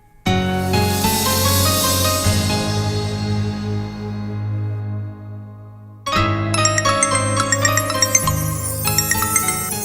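A phone rings while a call goes through to dad's phone, a bright looping electronic tinkling melody that plays loudly, stops abruptly, then resumes with a new run of chiming notes.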